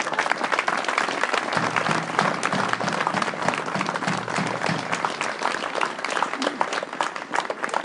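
Sustained, dense audience applause at an outdoor peace rally on a town square in Traunstein, loud and steady across the whole stretch with no voices rising above it.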